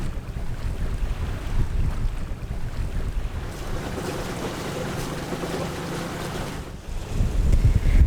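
A sailboat cutting through open sea in the Caribbean near Union Island and Palm Island, with steady loud wind rushing across the microphone and a continuous wash of water and waves beneath it, no voices.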